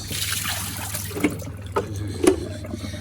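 Water rinsed around and poured out of the dirty tank of a VAX Dual V Advance carpet washer, a low trickling flow with a few sharp splashes and knocks over steady hum.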